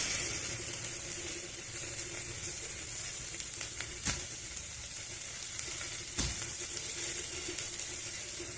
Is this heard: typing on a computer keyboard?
no